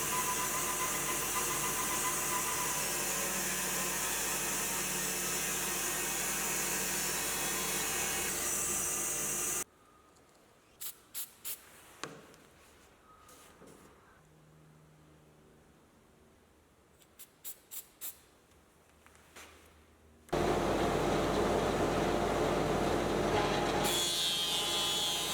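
A power-fed bandsaw cutting wood gives a loud, steady broadband roar that cuts out for about ten seconds, leaving a few faint clicks and taps, then starts again at full volume.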